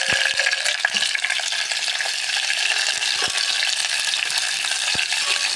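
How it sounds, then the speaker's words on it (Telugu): Onion pieces fry in hot oil with a dense, continuous close-up sizzle, broken by occasional scraping clicks as they are stirred in the pan; no voices. "ఉల్లిపాయ ముక్కలు కూడా యాడ్ చేసుకుందాం"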